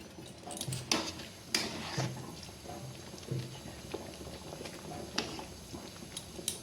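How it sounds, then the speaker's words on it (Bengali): Water at a rolling boil in a pot before semolina goes in for pithe, soft bubbling broken by sharp ticks and knocks, close and fairly quiet, with no voices. "জলটা ফুটে গেছে"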